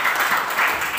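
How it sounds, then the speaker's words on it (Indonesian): A church congregation clapping together during a sermon, a brief dense burst of many hands applauding at moderate distance, with no voices over it. "Tepuk tangan bagi Tuhan."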